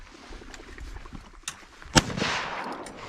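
Shotgun fired at ducks over a flooded cornfield outdoors, one loud, sharp blast with a brief, rolling tail, plus a fainter earlier pop amid wind and background noise.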